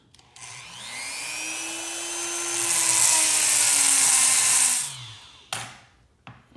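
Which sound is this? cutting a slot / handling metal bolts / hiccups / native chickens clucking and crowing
cutting a slot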